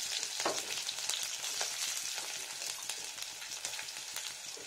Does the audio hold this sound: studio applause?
no